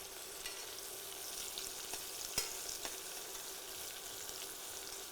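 Onions fry in hot oil with ginger garlic paste in a kadai, a faint, steady sizzle running throughout with a few soft clicks and scrapes of stirring, and no voices.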